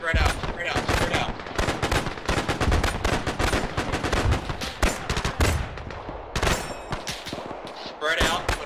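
Relentless automatic and rifle gunfire in ArmA 3 during a WWII Operation Torch historical campaign battle, dense overlapping bursts with brief lulls, loud and close throughout.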